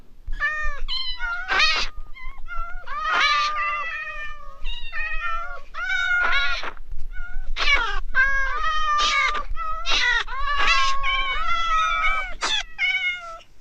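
Repeated Minecraft cat meows, several voices calling in overlapping bursts, loud and close, with short gaps between cries.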